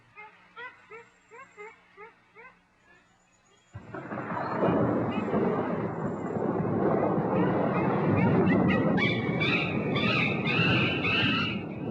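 A growing thunderstorm roars in the wild, a loud, sustained wash of heavy rain and rumbling thunder that abruptly overwhelms a young chimpanzee's earlier rhythmic distressed cries.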